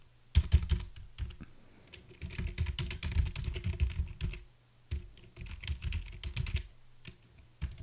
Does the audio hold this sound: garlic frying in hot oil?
no